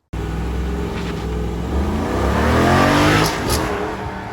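A 2024 Jeep Grand Wagoneer L Series III sends a loud, close exhaust roar that rises steadily in pitch as the SUV accelerates hard, holding for several seconds before the engine note eases off.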